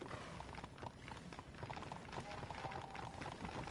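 Horse hooves clip-clopping in Red Dead Redemption, a steady close rhythmic trot with an occasional whinny, with voices speaking in the background.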